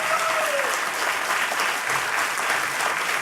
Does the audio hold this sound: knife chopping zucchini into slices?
no